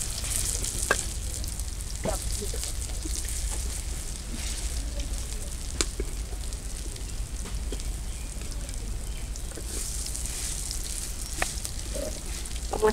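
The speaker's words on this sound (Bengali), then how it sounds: "বড়াগুলো সব এপিট এপিট করে উল্টে নিতেছি" Bora fritters fry in a pan, a steady loud sizzle with occasional clicks and scrapes as they are flipped, and no talk.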